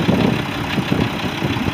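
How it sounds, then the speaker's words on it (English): A 460 Mack engine idles in a 2004 Mack CH613 truck with a 13-speed transmission and dual pipes, giving a steady, close, rumbling drone with a slight rhythmic pulse. "Got a 460 MACK engine, a 13-speed MACK transmission"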